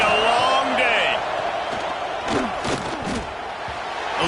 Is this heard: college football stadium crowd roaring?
yes